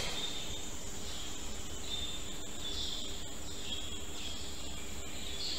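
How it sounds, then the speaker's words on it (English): Birds sing outdoors in a steady, high chirping chorus with a constant insect-like drone beneath it. The calls recur at moderate distance, and nobody speaks. "Just right now we hear the sound, bird sound."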